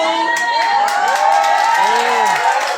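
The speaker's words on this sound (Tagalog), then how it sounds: "palakpakan natin ang QM" A presentation audience cheers and whoops loudly in a continuous crowd roar, with scattered shouts rising over a dense wash of noise and little distinct clapping.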